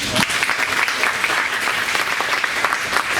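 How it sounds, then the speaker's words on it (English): Audience at a real estate talk gives a round of applause, sustained and fairly loud clapping with a few sharper individual claps standing out, no speech on top. "So let's give everybody a round of applause again."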